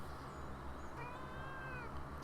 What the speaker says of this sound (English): my cat is being a major bitch tonight. Will not stop meowing.